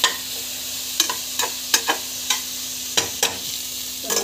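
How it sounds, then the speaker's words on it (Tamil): Green chillies being sautéed in a pan for biryani, a soft steady sizzle punctuated by about a dozen sharp spatula taps and scrapes at irregular intervals, close by and with no talking. "ஸோ பச்சை மிளகாய் வந்து ஆட் பண்ணிக்கணும். நல்லா வந்து இது வந்து வதக்கிட்டுருவோம்"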